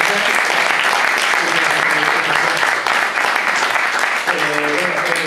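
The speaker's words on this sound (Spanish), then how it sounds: "yo le voy a pedir un fuerte, fuerte aplauso por el esfuerzo lingüístico también" Loud, dense audience applause fills a tech meetup room at a Madrid DevOps event, sustained and even throughout, with voices talking beneath it toward the end.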